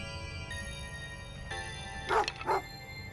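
A dog in the pixel-art horror RPG Imaginary Friends gives two quick, sharp barks close together near the end. The barks are fairly quiet and play over a steady, low game music drone.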